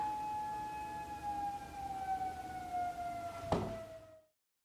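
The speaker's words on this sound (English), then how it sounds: "I hear a siren going off." A wailing siren drones steadily, slowly falling in pitch, then cuts out after a brief thump; moderately loud with no talking.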